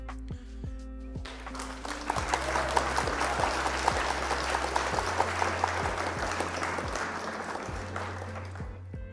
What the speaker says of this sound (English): Round of applause for our opponent.